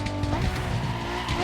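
Tires of the Apollo Project EVO squealing in The Crew Motorfest racing game, a sustained high tonal screech over a steady engine drone, loud and close with no talk.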